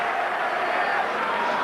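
A Madison Square Garden crowd reacts to the New York Knicks' pick at the 2003 NBA Draft with a brief, steady wash of mass crowd noise that holds at an even level from start to finish.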